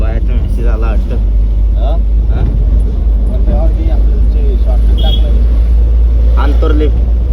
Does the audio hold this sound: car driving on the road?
yes